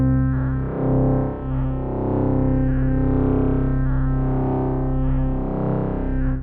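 Synth notes played on an Ableton Push into an instrument in Live 11, a distorted, buzzy sustained tone with several note changes that swell and shift in timbre, steady and loud with no voices.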